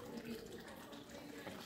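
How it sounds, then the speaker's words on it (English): Cold water is poured into a dish for a baby bath, making a steady, soft running splash that goes on throughout at low level. "So you get cold water and pour in that dish."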